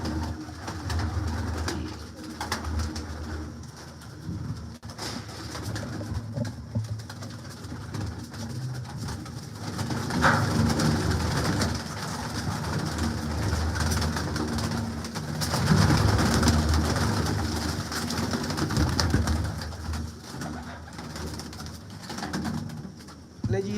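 Pigeons of assorted breeds held for sale coo steadily and close by. The soft, throaty calls repeat over a low background rumble, and faint voices can be heard now and then.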